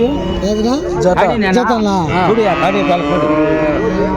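Holstein calves moo loudly and repeatedly close by, their drawn-out calls overlapping, while people talk amid the bustle of a livestock market in Punganur.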